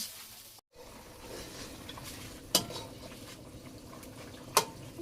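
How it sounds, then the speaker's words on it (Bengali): Vegetables sauté in a pot in a Bangladeshi village kitchen, heard as a continuous low sizzle with stirring scrapes and two sharp metallic clinks of a spoon against the pot. "আমার সবজি কষানো হয়ে গেছে, সুন্দর করে কষাই নিচ্ছি, জল দিয়ে দিই"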